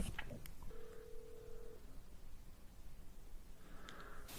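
A telephone call is placed during a skateboarding talk show, with a steady dial or ring tone and a few faint clicks over quiet background hiss, and no one speaking.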